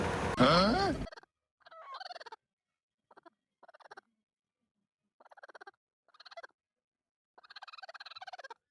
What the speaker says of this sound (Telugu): ఈ కోడి మన వీడియో సేపు అరుస్తూనే ఉంది ఇంకా పెద్ద పెద్దగా అరుస్తూనే ఉంది